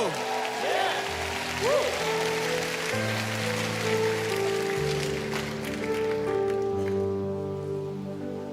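Congregation applause at a Thai church sermon, a steady rain-like wash of many hands clapping throughout. It carries on alongside sustained musical tones and a voice, then thins out near the end.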